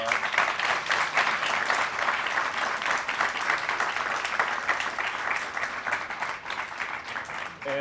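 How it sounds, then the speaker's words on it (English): An audience at a fall university program on Chinese media and youth breaks into sustained applause, many hands clapping steadily at moderate loudness throughout with no voices over it. "If you'll join me and give it a warm round of applause."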